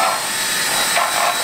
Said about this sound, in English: drill through the rim here